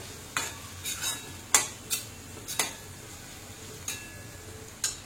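Spices such as chili, turmeric and red chili powder sautéing in a pan, with a faint sizzle and several sharp spoon-against-pan scrapes and clinks as they are stirred, nearby and with no talking.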